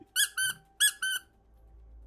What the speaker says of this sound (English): This guy squeaks.